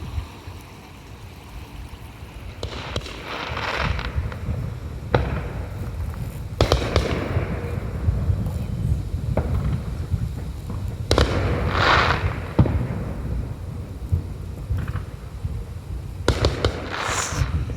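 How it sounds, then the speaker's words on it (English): Fireworks going off at night near the Yellowstone River, a string of sharp bangs and crackling bursts, some near and some farther off, over a constant rushing background of flowing water. "So there's like a ton of fireworks."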